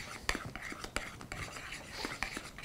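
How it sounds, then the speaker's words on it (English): Utensil stirring a chocolate raspberry orange pie mixture in a bowl, soft scraping strokes with faint clicks against the bowl, quiet and close. "Go ahead and mix that up."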